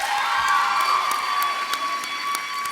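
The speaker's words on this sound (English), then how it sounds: "Can we have a round of applause for Miss Rocco?" An audience at the 2017 LDTV Awards cheers and claps, a steady wash of crowd noise with whoops and a few sharp claps rising over a sustained hum.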